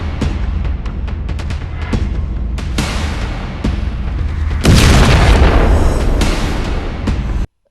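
Heavy explosions from a space station super weapon in a sci-fi strategy game, a series of sharp booms followed by a huge loud blast that roars and fades before cutting off abruptly.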